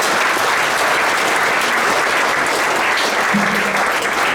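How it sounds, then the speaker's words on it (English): Audience applause for a panel at a talk on building distributed teams, a steady, dense wash of clapping that fills the whole stretch at an even, fairly loud level, with a faint voice briefly audible near the end. "let's give a round of applause to today's panel"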